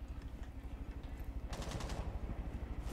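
Automatic gunfire from the video game Rainbow Six Siege rattles in a steady rapid burst throughout, growing sharper and brighter midway, with no talk over it.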